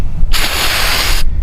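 Clean Strip paint stripper sprayed onto a car wheel in one steady, loud hiss lasting about a second, with quiet before and after.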